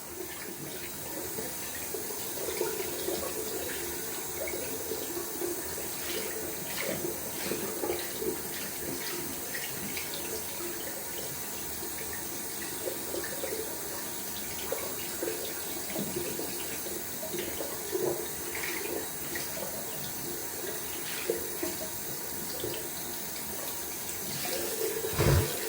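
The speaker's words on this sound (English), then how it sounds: "Just washing out the brush down here." Tap water runs steadily into a sink while a shaving brush is rinsed under it, a continuous splashing hiss with small irregular spatters throughout and no talk.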